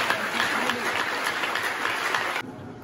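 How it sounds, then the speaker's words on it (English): Applause from an audience at a school-for-the-blind dining hall renovation ceremony, a steady patter of clapping that cuts off abruptly near the end, moderately loud. "Let's give them a round of applause."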